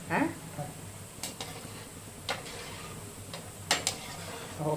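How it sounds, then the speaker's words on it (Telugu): Heart-shaped gulab jamun frying in oil over a medium flame, a soft, quiet sizzle broken by a few sharp clicks and clinks, with faint sounds like voices low in the background. "ఆయిల్ మీడియం ఫ్లేమ్లో ఉన్నప్పుడే వేసుకోండి, లోపల బాగా ఫ్రై అవుతాయి."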